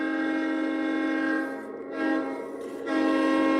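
A freight train's horn blares in a loud, steady, multi-tone drone that dips briefly twice before swelling back, with no voices over it.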